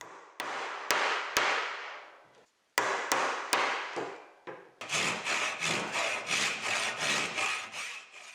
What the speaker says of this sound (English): My tenon saw was in its prime here.